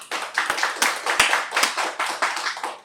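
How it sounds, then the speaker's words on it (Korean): An audience at a seminar and panel discussion on Jeju haenyeo divers who left home for Dokdo claps steadily. Dense, close hand claps run throughout with a few sharper individual claps standing out. "여러분 큰 박수를 먼저 부탁을 드리겠습니다"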